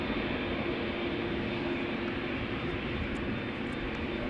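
An Embraer 190 airliner taxiing at Amsterdam Schiphol Airport, giving a loud, steady jet engine roar with a constant whine, unbroken and alone for the few seconds heard.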